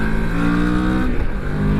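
A Moto Morini X-Cape motorcycle engine revs steadily up and down through a gear change, a loud close rumble with no talking.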